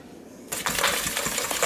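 Whisk mixing lemon butter cookie dough in a bowl, starting after a short quiet pause with rapid bright metallic clinks and scraping against the bowl, close and continuous.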